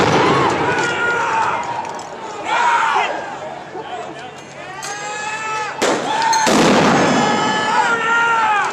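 Fireworks going off during a George Floyd protest in Grand Rapids that turned into a riot, several loud booming bursts with crackling tails, one sharp bang near the end, amid shouting crowd voices.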